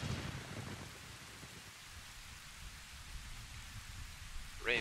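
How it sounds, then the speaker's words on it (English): Rain and thunder in the video game Ocarina of Time 3D: a steady wash of falling rain with a low rumble underneath and a sharper burst near the end, no talk. "Rain picks up, starts lightning."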